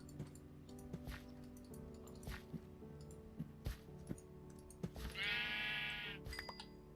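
A sheep bleats repeatedly in the Thaumaturge video game, several short wavering cries spread over a few seconds alongside soft ticking game sounds, with a longer, louder bleat near the end.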